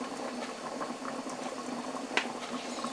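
Almond sauce with meatballs boiling in a covered pot, a steady close bubbling and popping with a soft continuous simmer and one sharper pop, no talk.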